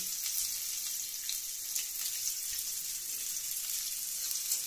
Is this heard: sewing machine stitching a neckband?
no